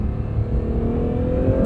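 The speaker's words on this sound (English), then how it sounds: "You can hear some turbo whooshes and whistles on light throttle applications" Acura NSX Type S engine droning steadily under light throttle from inside the cabin, a continuous close hum with faint turbo whoosh and whistle layered on top.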